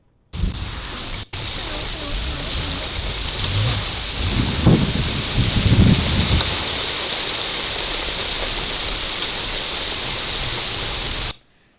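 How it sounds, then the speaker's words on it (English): Rain pours steadily as a dense, even hiss after a short quiet start, with faint low rumbles in the middle, as picked up by a security camera outdoors. "It's just starting to rain."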